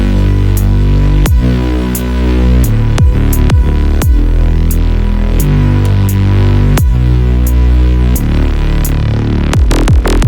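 An EDM build-up produced in FL Studio pounds out loud, dense synth chords with punchy kick hits and sharp crash accents, the rhythm tightening and quickening toward the end.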